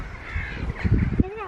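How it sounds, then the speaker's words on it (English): Several crows caw from nearby trees and sky, harsh repeated calls over a short stretch, mixed with people talking close by. "there's loads and loads of crows flying about"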